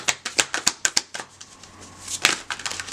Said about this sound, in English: Let me try one more shuffle because all the flipping and stuff.